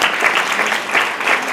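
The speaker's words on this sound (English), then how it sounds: "And yeah, you can clap for her." An audience at an animal rights conference claps steadily for a couple of seconds, a dense, even wash of many hands with no voices.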